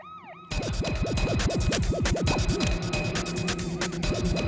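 A loud wailing siren starts abruptly and rises and falls quickly over and over, close by, with a faint whooping tone before it.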